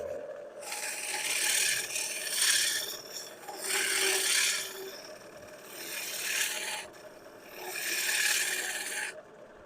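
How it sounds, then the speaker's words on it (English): A woodturning scraper rasps back and forth against spinning wood on a lathe, in four or five long scraping strokes that swell and fade in steady rhythm, close and fairly loud. "I'm able to work this scraper back and forth"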